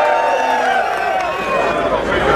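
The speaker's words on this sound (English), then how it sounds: "Who's booing?" Crowd booing at a bikini contest, Miss Florida Full Throttle 2017: a loud, steady mass of voices from an audience, dense and continuous throughout.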